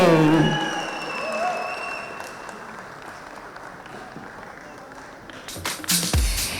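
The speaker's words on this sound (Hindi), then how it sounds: "एक बार जोरदार ताली को बजाइए एवरीबॉडी" An audience at a business conclave breaks into applause, a dense wash of clapping that starts loud, settles into a steady patter, then swells again with louder bursts near the end. A brief voice is heard at the start.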